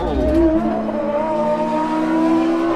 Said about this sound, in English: Spinning up the back tyres going through the Crosby chicane.